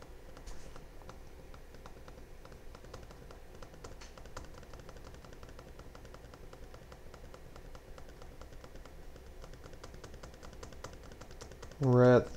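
Rapid mouse clicking while playing the Cookie Clicker video game, a steady stream of small, quiet clicks running throughout at close range, with a louder burst at the very end.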